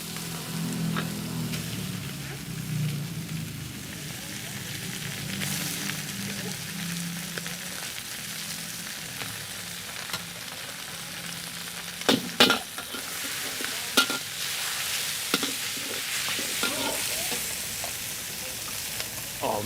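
Noodles sizzle and crackle in an iron wok with lard over a charcoal fire at a Thai street food stall, a steady frying hiss with occasional sharp clanks of stirring.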